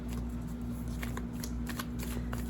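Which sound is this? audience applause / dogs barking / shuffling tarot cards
shuffling tarot cards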